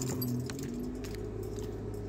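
Keys jangle close by at the ignition of a Maruti Suzuki Celerio, bright metallic clinks over a low steady car hum.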